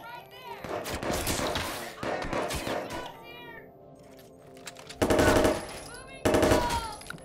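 Gunfire from a big gun in the video game Watch Dogs 2 comes in sharp, loud bursts, first a flurry of rapid shots, then a lull, then two heavy bursts near the end, with game noise and voices mixed in.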